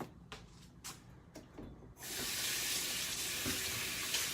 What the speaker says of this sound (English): Let me go ahead and wash my hands off.